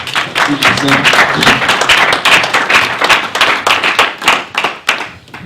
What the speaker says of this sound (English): I just want to clap